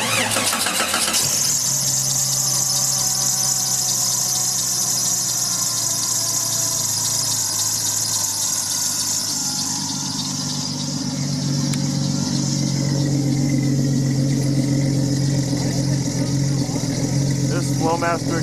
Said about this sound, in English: This Flowmaster exhaust sounds so good.